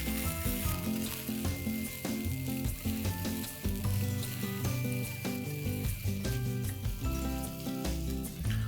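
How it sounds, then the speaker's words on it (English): Grated corn and finely grated ginger sauté in a hot pan, giving a constant, close sizzle broken by soft scraping and stirring, with nobody talking. "Saute this well, and this is going to roughly take the same amount of time as cooking the corn"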